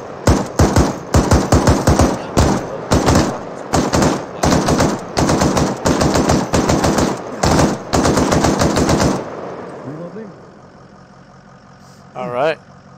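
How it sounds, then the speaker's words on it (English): Suppressive machine gun fire in the military shooter ArmA3, long rapid bursts of loud automatic shots for about nine seconds, then a quiet lull with faint background sound and a brief noise near the end. "we need suppressive fire down that, right where the smoke is at"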